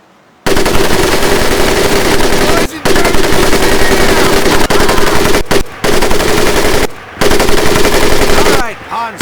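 An M1919A4 .30 caliber machine gun in Medal of Honor: Pacific Assault fires long, loud sustained bursts that are cut by a few brief pauses, with a shorter burst trailing off near the end.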